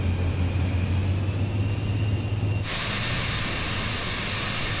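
An aircraft engine in Microsoft Flight Simulator 2020 steadily drones with a low hum, then abruptly surges into a brighter, hissing roar as power comes up and holds steady, loud and close with no talking.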